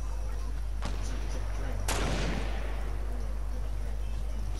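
Gunfire in the battle royale game Fortnite: two distant booming shots, the second louder with a long rolling tail, over a constant low hum.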